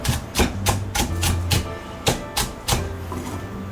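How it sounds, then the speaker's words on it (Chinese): A knife chops a screw pepper finely on a cutting board, giving irregular sharp thuds and taps, close and clear, with pauses between strokes. "再切碎后备用。"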